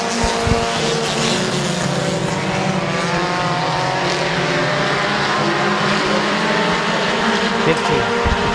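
Race cars battle around a speedway track, their engines droning continuously at a distance with layered rising and falling notes, while an announcer talks over them.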